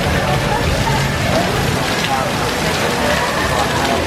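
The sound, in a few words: heavy rain pouring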